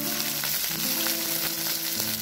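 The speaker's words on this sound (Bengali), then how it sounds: "দিয়ে দিচ্ছি কেটে রাখা পেঁয়াজ পাতা।" Chopped spring onion greens fry in hot oil with cumin seeds, dried red chillies and bay leaves, giving a steady close sizzle and crackle with faint stirring sounds throughout, no voices.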